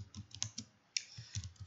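Computer keyboard typing during web automation work: a faint, quiet string of crisp, uneven key clicks with a short pause in the middle, no voices.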